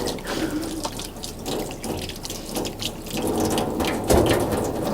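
Running tap water splashes over a copper etching plate in a sink, an uneven rushing stream with spattering drips and a sharper burst near the end, no one talking.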